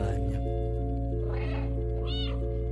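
A cat meows in the video game Stray, two short calls rising over steady humming game music and a low background drone.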